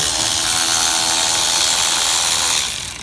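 A power tool with a 10 mm socket spins a cab accessory bolt off a Ford 6.0 Powerstroke truck, a loud continuous high whir close up that tapers off at the end.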